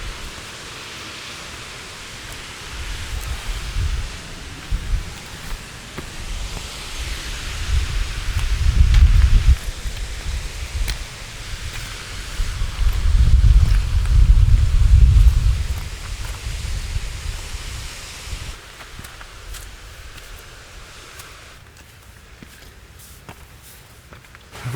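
Wind blowing on a hike up Scafell Pike, England's highest mountain, makes a loud, steady rushing noise with heavy buffeting gusts that swell twice, then eases to a quieter hiss.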